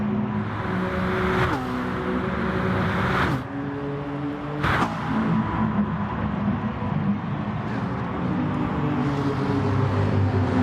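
Race car engines in a racing video game at the Blue Moon race, a continuous loud droning roar with shifting engine tones and several abrupt gear-change cuts, several cars running close together.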